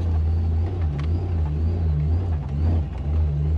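A supercharged 106 Toyota Hilux engine at low revs climbs a wet gully, a close, steady, deep droning rumble with slight swells in throttle and no speech.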